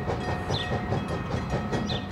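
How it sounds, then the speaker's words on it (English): Steam locomotive with its firebox being stoked, rolling along rail track at Pleasant Point, giving a steady rumbling run with rhythmic clatter and brief higher squeals. "to get this magnificent steam train rolling down the track."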